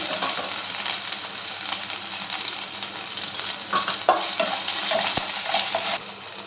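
Ginger garlic paste sizzles and fries steadily in a pan for chapathi fry while being stirred, with a continuous loud hiss and a few brief scraping clinks near the end, no talking.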